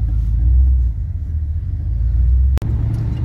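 A Ford Landau car driving on asphalt, giving a deep, steady low rumble of engine and road noise from inside the car, loud and even, with one brief click near the end and no talk.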